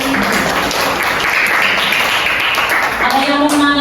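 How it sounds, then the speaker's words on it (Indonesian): A classroom of students clapping loudly and steadily for a presenting group, dense applause filling the room throughout with a few voices faintly underneath. "Tepuk tangan untuk kelompok 1."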